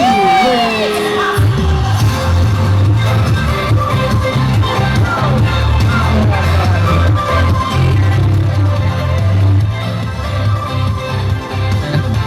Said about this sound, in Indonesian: Berikan aplaus yang meriah buat teman-teman kita